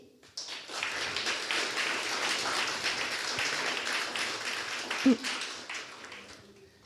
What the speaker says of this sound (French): c'est donc sous vos tonnerres d'applaudissements que je vais appeler les noms de Camille Truchot